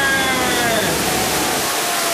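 The waterfall on the Jungle Cruise ride at Walt Disney World roars as a loud, steady wash of falling water close by, with no break.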